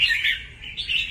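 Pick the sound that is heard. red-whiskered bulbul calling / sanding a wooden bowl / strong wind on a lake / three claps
red-whiskered bulbul calling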